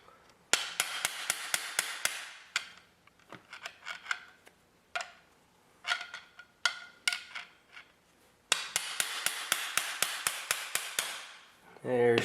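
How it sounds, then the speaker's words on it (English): Metal socket tapped against a CV joint to knock it off a car's axle shaft: quick bursts of sharp, close metallic taps in fast rhythmic runs, with scattered single knocks in between. "so I'm just going to kind of try to gently tap it off"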